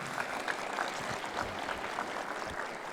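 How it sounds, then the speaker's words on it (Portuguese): Faint applause from a distant church congregation, a soft patter of clapping throughout. "Eu queria uma salva de palmas para a apóstola."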